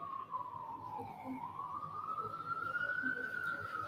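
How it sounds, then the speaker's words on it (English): A fire truck siren wails steadily at moderate distance on a city street in Ottawa, its tone sliding slowly up and down over a constant background of traffic and crowd murmur. "we heard some ambulance, or there was a fire truck"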